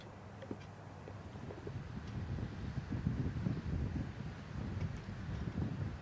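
Gusty wind blows across a golf course during a women's amateur golf championship, a low rumbling buffet against the microphone that swells and eases with no talk.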